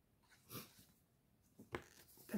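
A single person sneezes at close range with a sharp nasal burst, followed by another short sneeze-like snort, in an otherwise quiet indoor room.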